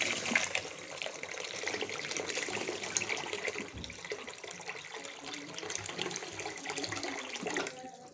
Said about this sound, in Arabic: هننزل عليها بالميه بقى